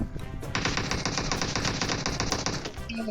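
Sustained automatic rifle fire in the mobile shooter game PUBG Mobile, a rapid unbroken burst of loud, close shots lasting a few seconds with no voices over it.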